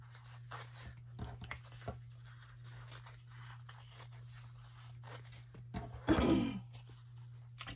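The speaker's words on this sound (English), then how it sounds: "Cut out real quick." Scissors snipping out paper book page tags, quiet short cuts and rustles of paper close by, with one louder crinkling snip near the end over a steady low hum.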